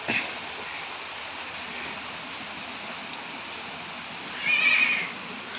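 A young goat bleats once in the rain, a short high call near the end, over a soft steady background hiss.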